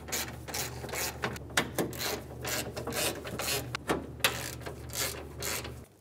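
Rapid ratchet clicking comes in short bursts as bolts are snugged down while installing the AC condenser cooling fan on a 2003-2008 Honda Pilot, with rhythmic ticking strokes over a low background hum, fairly close and moderately loud.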